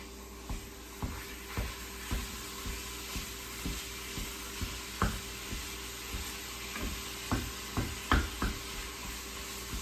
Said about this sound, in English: I'm just gonna cook this until the sausage is done